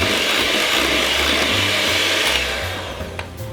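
Electric mixer whirring through vanilla pound cake batter, a loud continuous buzzing drone close up that holds steady, then eases slightly toward the end, with no voices.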